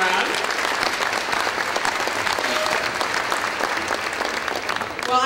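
Audience applause fills a luncheon hall, steady and dense clapping from a large crowd that continues throughout without a break.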